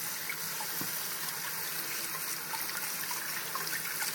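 Tap water runs steadily into a kitchen sink as produce is rinsed for a green smoothie, a continuous close splashing wash with no talking.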